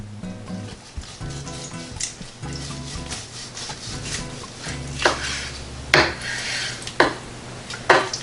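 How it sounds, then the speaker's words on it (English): A knife saws through an 8-hour smoked beef brisket on a wooden board, repeated rubbing strokes with knocks and clatters growing louder toward the end, close by. "So I'm just going to get a slice off of here."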